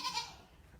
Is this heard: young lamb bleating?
yes